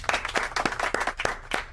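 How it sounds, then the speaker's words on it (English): A crowd's round of applause, dense overlapping clapping with sharp irregular hand claps standing out, steady and fairly loud throughout the short burst. "Let's give a round of applause for them drinking water again."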